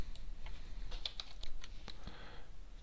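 Quick light keystrokes on a computer keyboard as a label is typed, a short close run of soft clicks over quiet room tone.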